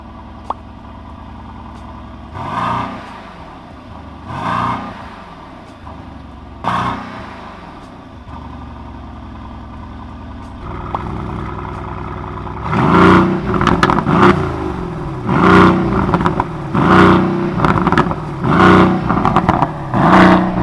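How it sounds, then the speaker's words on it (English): A 2020 Mercedes-AMG GLC63 SUV's exhaust revs in a few separate bursts, then a run of louder, closely repeated revs rising and falling near the end. "let's hear the exhaust sound on this car"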